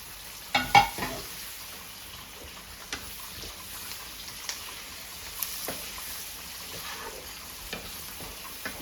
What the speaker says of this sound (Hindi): और अब हम इसको ज़रा भून लेंगे